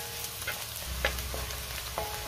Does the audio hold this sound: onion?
yes